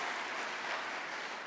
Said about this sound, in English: Let's not clap at everything.